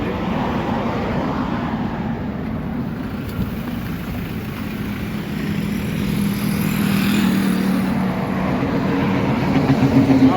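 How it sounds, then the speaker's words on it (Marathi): Road traffic on a highway with a vehicle crossing over the divider, a steady low rumble of passing engine and tyres that swells slightly toward the end, with no talk. "मागे बघू शकता एक गाडी इथं डिवायडरवरून पास होते"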